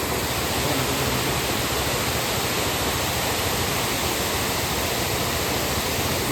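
Forceful water pours over the Khadkhad dam water curtain near Jawhar, making a loud, steady, broadband roar that fills the whole stretch without pause.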